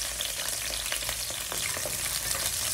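Onions frying in a pan give a dense, steady sizzle with occasional crackles and light stirring, close and fairly loud throughout.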